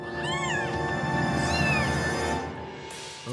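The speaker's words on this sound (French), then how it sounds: "la famille a-t-elle bien fait de déplacer Oria et ses chatons?" Several high, rising meows from small kittens, repeated close by over a steady background hum, with no talking.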